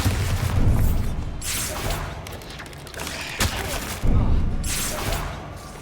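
Hogwarts Legacy spell combat: several loud booming blasts with whooshing and crashing debris, spaced a second or two apart, close and forceful, a casting voice briefly heard.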